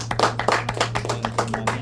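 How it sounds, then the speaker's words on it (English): A small classroom group claps for a student in a brief round of applause, scattered and uneven hand claps heard up close with a faint steady hum underneath. "Shall we give Money again a round of applause?"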